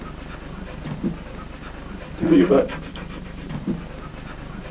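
A pet dog pants in short, breathy bursts while its rear end is being cleaned, the loudest burst in the middle, with a voice speaking briefly over it.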